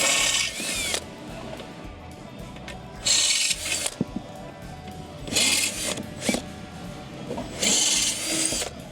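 Power drill boring starter bolt holes in a Can-Am frame for side step mounting, whining in several loud bursts of about a second each, separated by quieter pauses.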